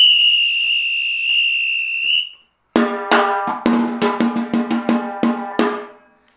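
A Brazilian percussion apito whistle blows one long, steady, piercing signal, then cuts off. After a short gap the ensemble enters with loud, rhythmic drum and percussion hits.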